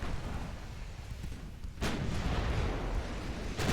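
Battleship guns booming in the naval combat game Ultimate Admiral: Dreadnoughts, two heavy rumbling artillery blasts a couple of seconds apart over a dense, continuous low roar of battle, loud and with no voices.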